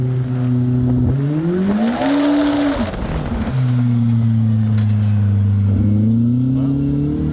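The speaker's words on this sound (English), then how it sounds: "As soon as you whack the gas, you're into the boost." A turbocharged car engine fitted with a plug-and-play standalone ECU and premium turbo kit revs loudly and close, the pitch climbing and dipping through repeated throttle blips with a brief rough drop midway.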